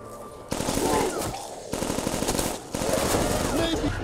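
Death machine firing in Call of Duty zombies: rapid, loud continuous bursts of gunfire broken by short pauses, with voices faintly underneath.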